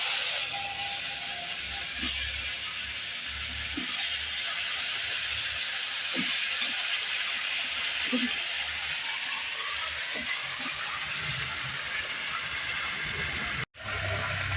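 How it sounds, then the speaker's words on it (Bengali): Vegetables sizzling as they go into hot frying oil already used for fish, seasoned with bay leaf and whole cumin, with a loud steady broadband hiss running throughout, close up, and a voice talking over it. "এই মাছ ভাজা তেলের মধ্যেই তেজপাতা আর গোটা জিরে ফোড়ন দিয়ে দিলাম, দিয়ে এইবার এই সবজিগুলো দিয়ে দেবো"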